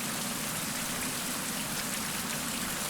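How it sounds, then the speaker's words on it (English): Steady rain pours in the survival game Survival: Fountain of Youth, a dense, even hiss of falling water that fills the whole stretch without pause, loud and close with no voices over it. "And now it's raining."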